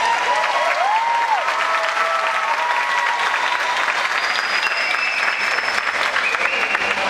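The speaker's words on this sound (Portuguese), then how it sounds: "Vocês podem aplaudir, tá?" An audience at a dance studio recital claps steadily and loudly, a dense sustained round of applause with a few voices and whistles mixed in.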